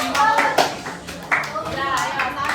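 Hands clap in a counted rhythm, giving a handful of sharp, close claps spaced through a short stretch while voices talk over them.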